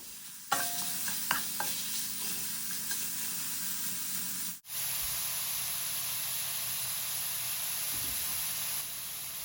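Minced pork stir-fried in a pan, a steady close sizzle with spatula scrapes and a brief break midway before the frying hiss resumes evenly.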